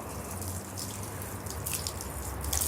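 Rinse water sheeting off a freshly rinsed surface during a car-detailing test, a steady close wash of running and dripping water with a constant flowing hiss, no voices.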